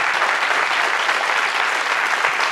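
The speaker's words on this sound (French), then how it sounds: "Et Mathilde Caillard, qu'on peut applaudir bien évidemment également." An audience claps steadily and loudly throughout, a dense, even burst of applause with no voices rising above it.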